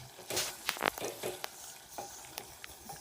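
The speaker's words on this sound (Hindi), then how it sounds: "तो अब इस गोश्त को भून रहा हूँ मैं, तो साथ इसके भुनने के दौरान ही आलू भी गल जाएंगे" Mutton with potatoes fries in a pot, a soft sizzle broken by stirring scrapes and a few sharp clinks of the spoon against the metal, close and fairly quiet.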